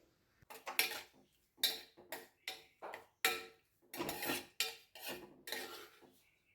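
Dried flowers being stirred in a pan over low heat until they turn black, giving a series of distinct scraping and clinking strokes from the utensil against the pan, close and fairly quiet, with no talking.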